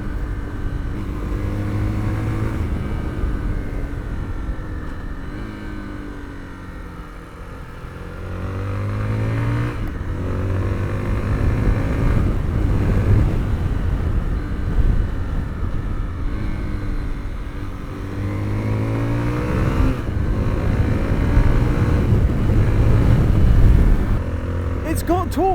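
A Zontes 350T ADV motorcycle engine hums and revs while riding, short-shifted to keep the revs low, rising and falling through gear changes under wind noise while the rider talks throughout.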